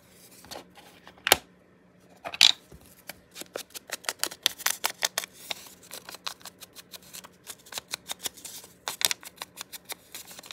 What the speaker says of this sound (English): This one needs to be torn a little bit more.